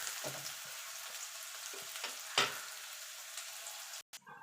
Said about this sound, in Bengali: এবার পেঁয়াজটাকে একটু লাল লাল করে ভেজে নেব।